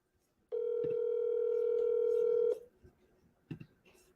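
A steady telephone dial tone holds for about two seconds on a phone line while calling sellers, then cuts off, followed by a few faint clicks.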